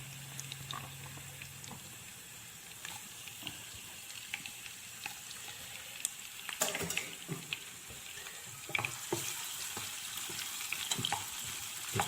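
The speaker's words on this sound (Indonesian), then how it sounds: "kita tumis sampai harum dan berwarna kecoklatan ya" Onions sautéing in a pan, a low steady sizzle with scattered scraping stirs and clinks, growing busier and a little louder toward the end, no talk.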